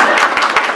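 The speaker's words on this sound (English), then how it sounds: "You can clap it." A short burst of audience applause, steady broadband clapping from a crowd lasting under a second.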